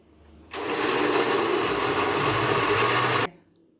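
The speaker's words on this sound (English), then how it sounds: "Now I'm going to blend this." A blender whirs loudly for about three seconds blending breadfruit punch, starting abruptly and cutting off just as suddenly, with no talking.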